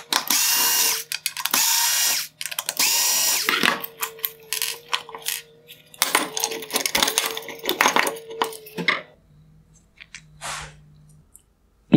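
Power driver backing out T10 Torx screws from the circuit board of a 2020-2021 Maserati Levante OEM LED headlight, several loud whirring bursts separated by short pauses, mixed with small clicks and screw rattles, then fading to quiet.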